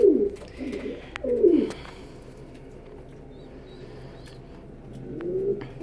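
Soft, low pigeon coos from a pet pigeon, two close rolling phrases near the start and another at the end, with quiet room background between them.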